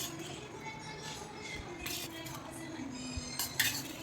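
A spoon stirs ground peanuts and roasted gram dal into rice in a metal vessel, giving scattered scrapes and clinks that grow sharper toward the end against a quiet kitchen background.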